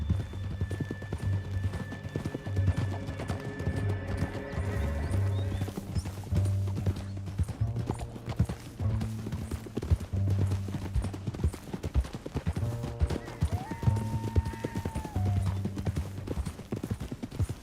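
In Red Dead Redemption 2, steady clip-clop of horse hooves galloping over a low musical score, with a brief whinny partway through; rhythmic and continuous throughout.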